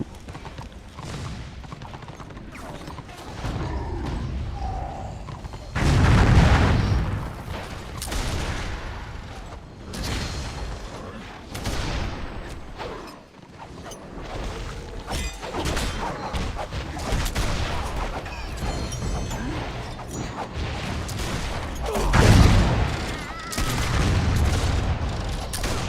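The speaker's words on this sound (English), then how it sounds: "Oh, the sweet sound of Dwarven engineering. The cannons." Dwarven artillery cannons fire in the Warhammer Online game, a series of loud booming blasts with peaks around six and twenty-two seconds amid a dense, continuous battle din, with no talking.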